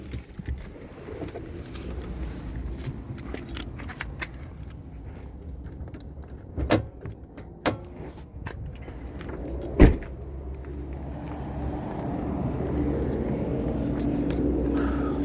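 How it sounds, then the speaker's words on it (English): Hood of a 2020 Nissan Frontier being released and opened: scattered clicks and clunks over a low idle background, with sharp latch thumps near the middle and a louder bang around ten seconds. "Let's pop the hood in the engine bay"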